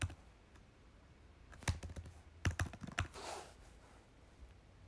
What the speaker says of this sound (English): if I typed in sweet potato again